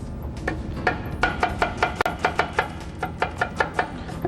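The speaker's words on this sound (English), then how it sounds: "We get our shallot. Just cut the heart out of it." A knife chops through a shallot on a board in quick, steady strokes, about twenty crisp close knocks in a brisk, slightly uneven rhythm with no talking.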